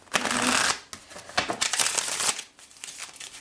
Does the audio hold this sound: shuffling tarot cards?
yes